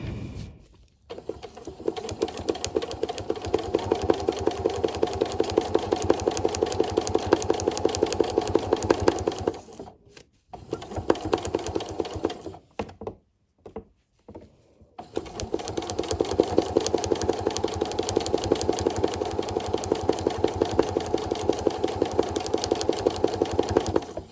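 A sewing machine runs in steady bursts of rapid, even stitching for free-motion quilting on a quilted Christmas ball decoration, with close mechanical whirring that pauses briefly twice before starting again.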